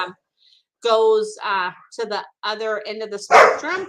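Several loud, close dog barks and yips burst out in quick succession, mixed with a person speaking.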